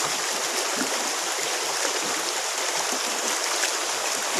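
Freshwater algae being washed in a loosely woven basket, with water running and splashing in a continuous loud, close rush.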